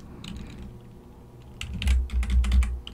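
Computer keystrokes patter as a formula is typed into an Excel spreadsheet, soft and light at first, then denser and louder over a low thumping hum in the second half, with no talk.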